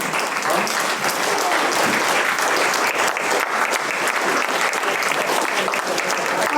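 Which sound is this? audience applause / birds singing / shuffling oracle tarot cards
audience applause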